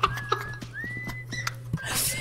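Thin, wavering whistles in the modded video game Lethal Company come in several short tonal phrases over a steady low hum, with soft knocks and a burst of noise near the end.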